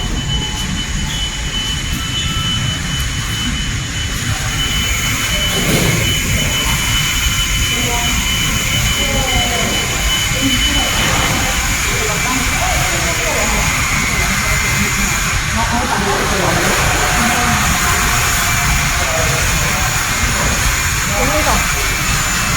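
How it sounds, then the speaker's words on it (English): A fully automatic N95/KN95 face mask machine from Proso running in a factory, giving a steady loud mechanical hiss and whir with faint repetitive clatter throughout, while people talk over it. "the Proso face mask machine"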